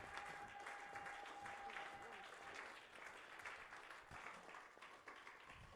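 A church congregation applauding, steady broad clapping from a crowd that carries on throughout at low volume, with voices mixed in under the applause.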